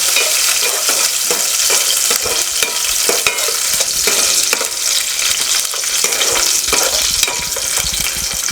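Green chillies and two or three garlic cloves fry in a pan for a coriander chutney, giving a loud, steady sizzle with scraping stir strokes throughout and no talking.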